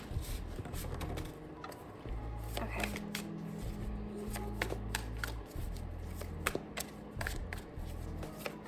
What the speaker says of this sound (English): Let's get one more quick shuffle.